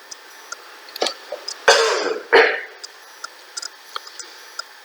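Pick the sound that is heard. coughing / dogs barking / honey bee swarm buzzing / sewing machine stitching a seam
coughing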